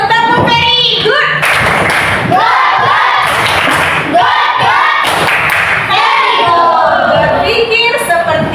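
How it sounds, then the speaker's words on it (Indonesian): A classroom of children does a patterned 'very good' cheer clap: rhythmic bursts of many hands clapping in unison, mixed with lively young voices chanting and a teacher speaking, loud and close throughout. "Beri tepuk very good dulu. Tepuk very good."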